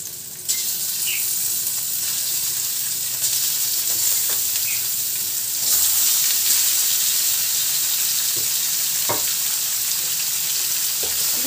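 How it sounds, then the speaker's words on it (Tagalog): Pork pieces frying in a pan for caldereta give a loud, steady, close sizzle, with occasional faint taps of stirring beneath it and no voices. "hanggang sa parang na-prito na yung laman ng baboy"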